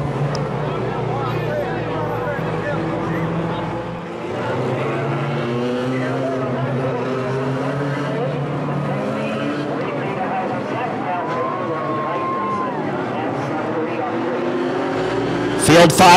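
Four-cylinder race cars at a speedway after a restart, engines roaring loudly and continuously as the field accelerates into a turn, with a commentator talking over the noise.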